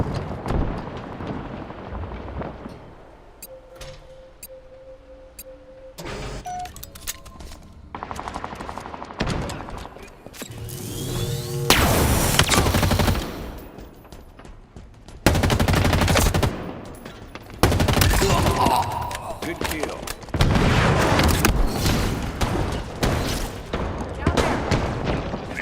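Loud bursts of gunfire and heavy blasts from a rocket launcher in the video game Halo, arriving in sharp clustered volleys with quieter gaps, under occasional excited talk.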